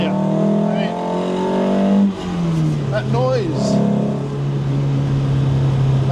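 A Lancia Fulvia engine drones steadily and loudly nearby, its pitch shifting slightly as it runs, while voices briefly speak over it.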